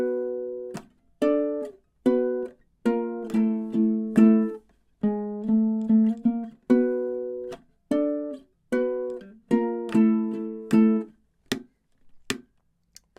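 Ukulele runs through the bridge of a song, measures 9 to 12, with bright plucked chords and single notes in a steady pattern. Sharp thumb taps land on the body at the ends of phrases, close and solo, with no talking.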